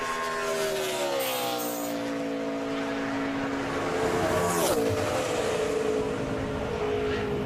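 NASCAR Nationwide car number 93 on a qualifying run at Charlotte, its engine screaming at high revs through rising gear changes, then dropping sharply as it passes and fades, loud and continuous with no talking.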